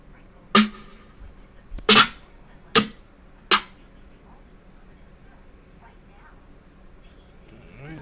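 Drum samples auditioned one at a time in Maschine while building a beat: four sharp, loud percussive hits spaced roughly a second apart, each decaying quickly into a low background hum.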